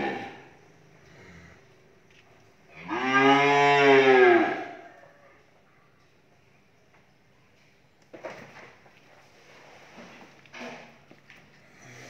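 Six-month-old cattle on a farm, a single loud, drawn-out moo lasting over a second near the start, followed by quieter farm noises and faint movement.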